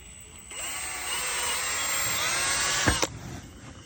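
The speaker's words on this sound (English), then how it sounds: "It's really soft material, really easy to drill." A power drill whines steadily for about two and a half seconds, close up, boring into soft plastic, then cuts off with a couple of sharp clicks.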